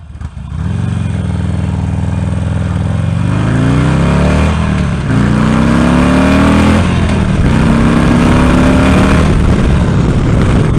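A motorcycle engine under way on a ride, loud and close, holding a steady drone and then revving up through several rising pitch sweeps, with constant wind rush and no talking.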